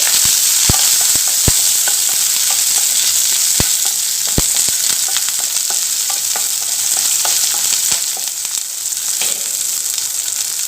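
Fresh curry leaves and spices sauté in hot oil for drumstick sambar, giving a steady, close sizzle with sharp crackles and spatter pops scattered throughout, no talking.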